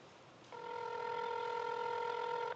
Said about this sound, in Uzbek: Gudok ketyapti.